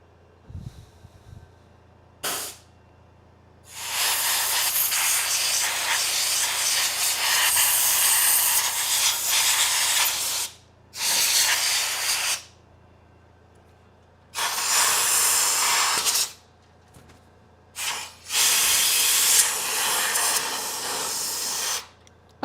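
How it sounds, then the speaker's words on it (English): Compressed air blasts clean a high voltage supply for a Merlin FEG SEM ion getter pump, five long loud hissing bursts of varying length with short silent gaps between them, close up. "So much fun, compressed air."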